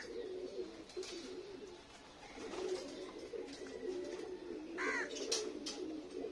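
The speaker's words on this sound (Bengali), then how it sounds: "এই যে দেখতে পাচ্ছেন কবুতরগুলো কিন্তু আস্তে আস্তে সবই নেমে আসছে।" Pigeons coo softly and repeatedly around a trap, a low rolling murmur with a few sharper calls near the end, heard at a moderate distance.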